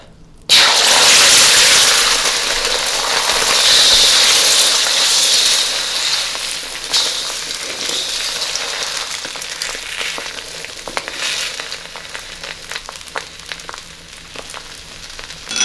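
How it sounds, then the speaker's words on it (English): Eggs hitting a tablespoon of vegetable oil in a hot wok, an immediate loud, hissing sizzle that gradually settles into a softer crackling fry with scattered pops. "I'm just gonna add about a tablespoon of vegetable oil and immediately add my eggs"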